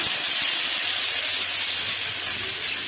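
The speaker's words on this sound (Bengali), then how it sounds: "তেল আমার গরম হয়ে গেছে, দিয়ে দিচ্ছি শুকনো লঙ্কা, 5 ফোড়ন, দিয়ে দিচ্ছি তেজপাতা, দিয়ে দিলাম আলু" Potatoes hit hot oil already seasoned with dried red chillies, five-spice seeds and bay leaves, giving a loud, continuous hissing sizzle that barely varies across the short stretch, with no talking.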